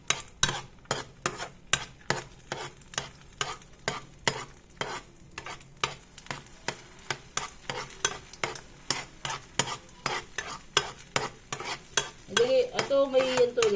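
Egg is stirred as it fries in reused oil, with rapid rhythmic scraping and clatter of a utensil against the pan over a soft sizzle, close and steady throughout.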